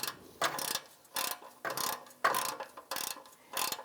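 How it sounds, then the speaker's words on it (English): An 8 mm socket on a ratchet tightens oil pan bolts on a 1998-2011 Ford Ranger 3.0L V6, making repeated bursts of rapid clicking separated by short pauses, close and clear. "ready to go with my 8 millimeter, and I'm going to just start torquing them in sequence"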